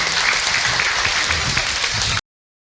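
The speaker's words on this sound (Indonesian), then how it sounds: "saya tepuk tangan untuk Abi, Ibu." Loud, steady applause from a congregation at an Islamic religious talk, a thick wall of clapping that continues evenly and then cuts off abruptly.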